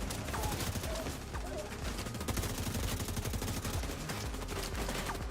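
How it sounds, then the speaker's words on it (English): Rapid bursts of enemy gunfire in The Division 2, dense and continuous with overlapping automatic shots and scattered single cracks, loud throughout, with faint voices underneath. "Really? You're shooting me? Who's shooting me?"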